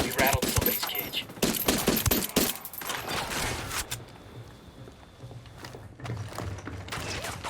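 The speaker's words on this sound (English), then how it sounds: "Opening fire." Bursts of automatic gunfire in the video game Ghost Recon Wildlands, with a dense volley of loud shots early on, then quieter scattered fire and low rumble as the fight continues.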